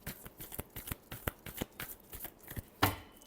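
Tarot cards are shuffled by hand, a quick run of crisp riffling flicks and soft slaps that ends in one louder snap, close and quiet, with no voices.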